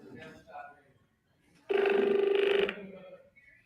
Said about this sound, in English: that's like that old rotary phone or something